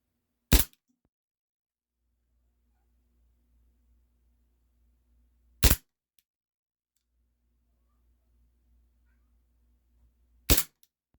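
A Cybergun Desert Eagle airsoft pistol, charged with green gas and loaded with 0.25 gram BBs, fires three sharp, loud cracks roughly five seconds apart, with near silence between the shots.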